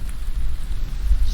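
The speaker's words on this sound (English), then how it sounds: "it's raining right now" Steady rain pours down in a survival video game, a dense, continuous hiss with a low rumbling undertone, loud and close with no voices over it.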